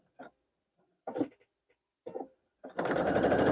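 A few separate soft thumps and rustles of quilt fabric come first, then a sewing machine stitches quilt borders, starting into a steady, fast mechanical whir that runs loud and close to the end.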